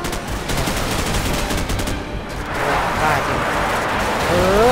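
Rapid gunfire bursts from Call of Duty 4: Modern Warfare mix with engine rumble and explosions, including a fuel tanker blowing up, a continuous dense battle soundscape.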